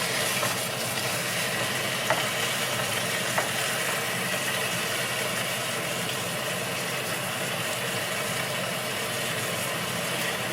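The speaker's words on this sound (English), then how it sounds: "You already hear it sizzling." Garlic cooks in a pan with a little vegetable broth, giving a soft, even sizzle and hiss that runs steadily the whole time without talking.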